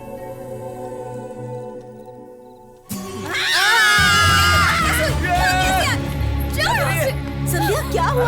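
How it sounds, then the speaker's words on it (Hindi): A woman screams loudly in a Hindi-dubbed film bedroom scene. The high, wavering cries start suddenly after a quiet stretch and go on over a low background music bed. "चिल्ला क्यों रही हो?"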